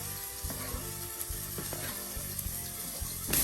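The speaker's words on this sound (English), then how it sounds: "let's add the onions, garlic, and jalapeno to the pot with the bacon grease." Onions, garlic and jalapeno frying in bacon grease in a pot make a steady sizzle, with a few soft clinks and scrapes of stirring over it, close and moderately loud, with no talking.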